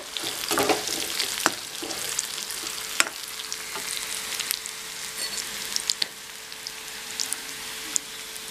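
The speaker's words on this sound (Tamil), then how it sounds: "இது ரெண்டையும் சேர்த்து நல்லா மிக்ஸ் பண்ணிட்டு" Cumin being stirred into mutton curry masala in a pan, with a steady sizzle and scattered spoon scrapes and taps against the metal throughout.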